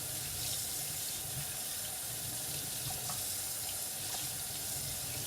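A kitchen tap runs steadily into a sink while soap is rinsed off dishes, a loud, even rush of water with no pauses.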